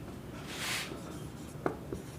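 Pen writing notes on paper, a brief close scratchy stroke followed by a couple of light taps, no talking.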